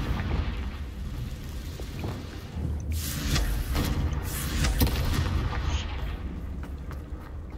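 Confringo spell explosions in Hogwarts Legacy, a sustained burst of booming, crackling blasts that swells loud around the middle and then rumbles on under faint background noise.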